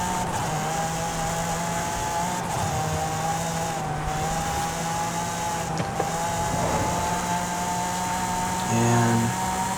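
A Hennessey truck in Forza Horizon 5 holds a sustained, moderately loud engine drone that shifts pitch slightly as it accelerates, with a brief burst of louder noise near the end and no speech.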